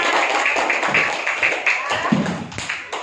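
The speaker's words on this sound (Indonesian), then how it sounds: "beri tepuk tangan dulu untuk kelompok penengah" A class of primary school pupils claps for a student group in a classroom, a brisk burst of rhythmic hand claps with a few thumps, heard under overlapping chatter.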